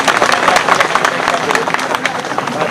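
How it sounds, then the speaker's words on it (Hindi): Dense, steady applause from a rally audience welcoming a former cabinet minister, many hands clapping at once in a loud, continuous wash with crowd murmur mixed in. "बहुत जोरदार तालियों के साथ स्वागत करेंगे"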